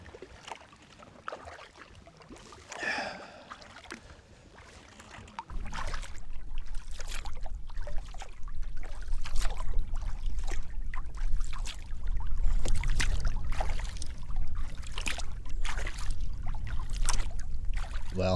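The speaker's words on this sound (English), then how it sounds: "it's a beautiful morning to be paddling" A kayak paddled across a lake in Algonquin gives a quiet opening of faint splashes, then a steady wash of water with repeated dips and drips of the paddle, moderately close.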